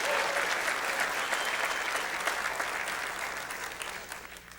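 An appreciative crowd applauds at a women's pool match at a billiard expo, a dense, steady burst of clapping that slowly fades over a few seconds.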